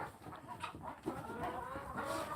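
Barred Rock chickens and ducks feed on bread nearby, giving soft clucks and short fowl calls over pecking and shuffling noises, with no talking.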